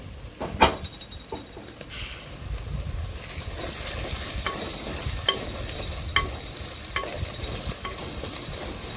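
Small fish and brinjal curry simmering in a pan, a steady soft bubbling and sizzle with occasional stirring clinks, close and moderate in level, no talking.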